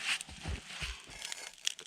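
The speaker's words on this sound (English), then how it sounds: "Some nice dry birch bark." Dry birch bark being torn and crinkled by hand while starting a stick stove at a winter ice-fishing camp, a few short close crackling rips spread over a couple of seconds, quiet and without talk.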